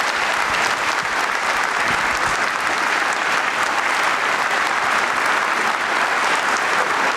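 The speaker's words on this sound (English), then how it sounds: "So a big round of applause to thank all of our panelists." A large audience applauds panelists at a Hill School coeducation anniversary event, producing dense, steady clapping that fills the space at an even level throughout, with no talk over it.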